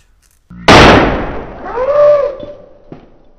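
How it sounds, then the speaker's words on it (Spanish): A firecracker explodes nearby with a single sharp, loud bang that rings out and decays, followed by fainter sounds afterward. "Ese es el cabrón de mi padre que tira un petardo."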